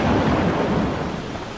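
Thunder rumbling in a stormy Animal Crossing village, a loud low roll over steady rain that fades gradually toward the end, with no voices.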